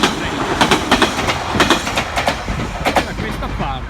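A train running on the railway near Kagoshima, Japan, giving a loud rhythmic clickety-clack of wheels over rail joints with a steady rumble underneath throughout.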